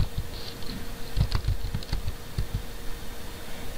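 Computer keyboard keys are tapped in a short, irregular burst of clicks, close and moderately loud, with no voices.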